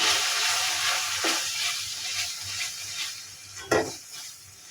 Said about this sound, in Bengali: শুকনো মশলাগুলো দিয়ে আমি এখন ভালোভাবে আবারও কষিয়ে নিই